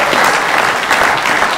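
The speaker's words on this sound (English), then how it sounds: "Can we give a round of applause?" An audience at a late-night show gives a round of applause, loud and close, with dense clapping that surges slightly and stays constant throughout.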